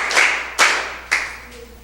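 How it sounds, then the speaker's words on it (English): Three sparse, echoing hand claps sound at moderate volume in a reverberant room as participants are introduced at a school quiz competition, with no voices over them. "A round of applause for her."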